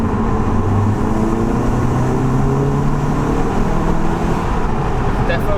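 A remapped VW Golf GTI MK7 with a Revo tune pulls hard in third gear on a road with some traffic, the engine note rising steadily in pitch from inside the car, loud and sustained, with talk over it.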